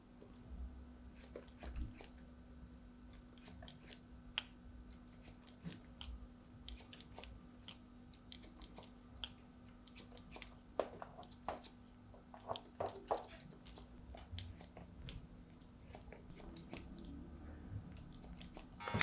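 Scissors snip through a client's hair during a barbershop haircut, giving steady close crisp clicks and snips in irregular bursts with a low hum underneath.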